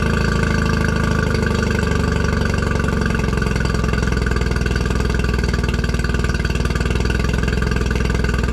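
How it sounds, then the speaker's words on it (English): A 20 horsepower remote-start outboard motor on a boat idles loudly and steadily, a close, continuous rumbling drone with a rapid even beat and no voices. "this one, 20 horsepower is remote start, so I have to go up on deck to start it, but you'll be able to hear it start"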